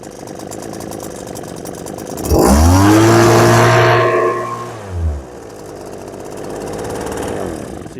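Kawasaki leaf blower engine, made in Japan, bursts into a loud run with wavering pitch during warm-up, then drops back to a quieter idle with a brief blip, close by and with no voices.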